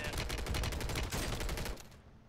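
Rapid bursts of automatic gunfire in a first-person shooter video game, loud and dense with repeated crackling shots, tailing off near the end.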